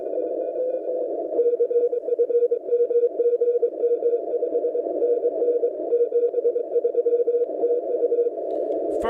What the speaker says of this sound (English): I think this guy in Poland's pretty loud in New York.